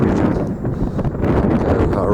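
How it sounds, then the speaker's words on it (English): Strong wind buffeting a microphone on the open balcony of a wooden mountain lookout tower, a steady loud roaring rumble with gusty surges throughout. "I know it's a bit windy, so you might not be able to hear me very well"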